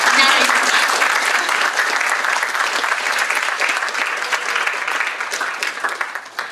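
A poetry festival audience breaks into loud, full applause that starts strong and gradually thins out toward the end, with a few voices mixed into the clapping.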